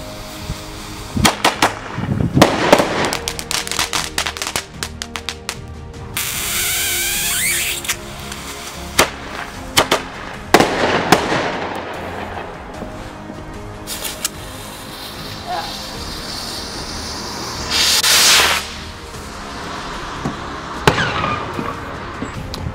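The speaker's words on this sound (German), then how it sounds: "Wir können nämlich auch mehrere Böller oder Raketen und Hähnen in Reihe schalten" Firecrackers and rockets set off one after another with a homemade remote igniter, giving a series of loud sharp bangs and crackling bursts with whooshing rocket launches between them, outdoors, with some voices.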